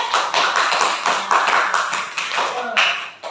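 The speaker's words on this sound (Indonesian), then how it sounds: "tepuk tangan buat Mas Sampai" A classroom of fifth-grade pupils claps for a student returning to their seat: a dense, steady burst of many hands clapping at once, close and lively, lasting about three seconds before it trails off.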